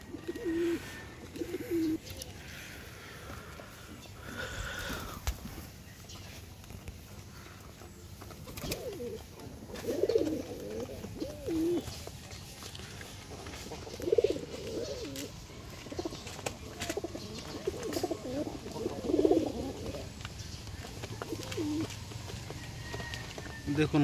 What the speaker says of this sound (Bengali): দেখুন কত সুন্দর ডাকতেছে কবুতর।